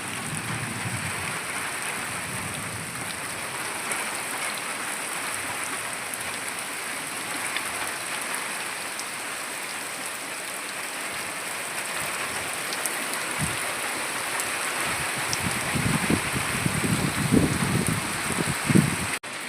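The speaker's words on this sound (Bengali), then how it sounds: "বৃষ্টিও ভীষণ জোরে নেমে গেছে" Heavy rain pours steadily outside a home kitchen during a rainy cooking session, a dense, continuous hiss that stays even throughout and swells slightly near the end.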